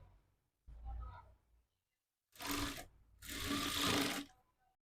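A sewing machine stitches a hook strip on a boat-neck blouse, running in short bursts: one soft low whirr, then two louder close runs of rapid stitching separated by a brief pause.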